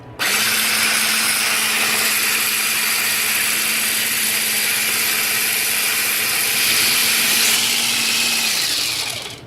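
An electric mixer whips egg white to fluffy peaks, a loud, steady whirring motor running continuously, then winding down briefly at the end.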